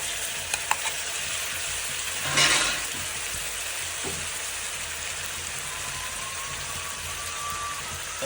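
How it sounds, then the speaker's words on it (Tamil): Onions sizzle steadily in hot oil in a pan for mutton chukka as ginger-garlic paste goes in. One brisk scraping stir swells the crackle briefly, then the frying settles back to an even hiss. "இப்போ நாங்கள் இஞ்சி பூண்டு பேஸ்ட்டு போட போகிறோம்"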